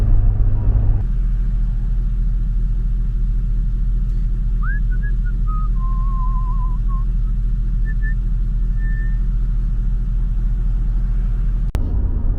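Steady low car engine and road rumble from inside a vehicle driving back from town, a continuous hum lasting the whole stretch with a faint whistle-like tone partway through and no talking.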